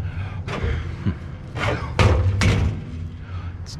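A heavy, rusty steel screen door is handled outdoors, giving several dull thuds and knocks spread unevenly over a few seconds, fairly close and moderately loud, with a faint background hum.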